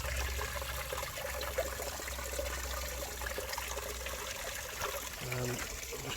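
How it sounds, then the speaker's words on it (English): Pond water drains out through a siphon hose in a blanket-weed-choked koi pond, a soft continuous trickle and gurgle running steadily with faint low rumble and some background noise. "See, the water's running out."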